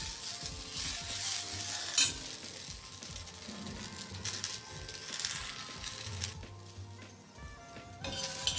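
Okra sizzles steadily in a pan over a medium gas flame while being stirred, giving a continuous close frying hiss broken by soft scraping and clinking, with no voices.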